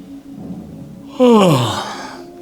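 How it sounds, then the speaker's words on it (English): A single voiced yawn that starts high and slides downward into a breathy exhale, lasting about a second. "Just yawn."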